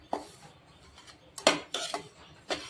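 A utensil scraping and stirring boiled-rice flour as it dry roasts in a pan, a handful of separate sharp metallic scrapes and clinks close by, with quiet gaps between them.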